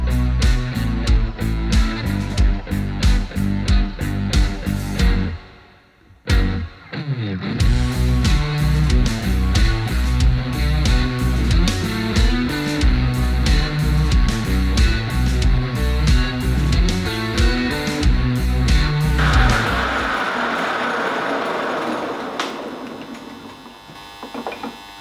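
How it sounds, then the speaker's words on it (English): Nuts are machined down on a metal lathe to form a shoulder so they fit a 28 mm hole in flat bar for a sheet metal bender, a loud, continuous tonal whine with rapid rhythmic pulsing, pausing briefly near six seconds and dying away after twenty. "Now we're going to machine these 5 nuts down"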